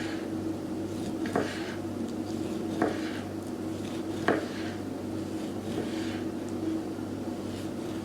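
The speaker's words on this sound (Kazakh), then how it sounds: "Қатты қалың емес, қатты жұқа емес, осындай орташа деңгейде кесіп аламыз." A knife cuts through peeled kiwi on a board, producing a few soft, evenly spaced slicing taps over a steady low kitchen hum.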